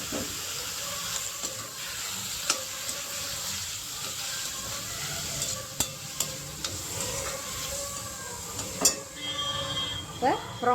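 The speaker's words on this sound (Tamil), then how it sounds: "அதுக்கப்புறம் அதில் ப்ரானை சேர்க்க போகிறோம்." Cleaned prawns are tipped into ginger garlic paste frying for prawn masala, giving a continuous sizzle with scattered sharp spoon-on-pan clicks and scrapes, close and moderately loud, with no voices.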